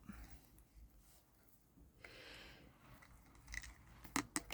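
Scissors snipping ribbon while making a Christmas bauble, a few quick crisp close cuts near the end after quiet handling rustles.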